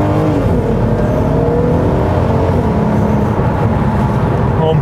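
A Volkswagen Golf R's turbocharged engine pulls hard under acceleration, a loud, steady, rising drone up close that lasts several seconds with no talk.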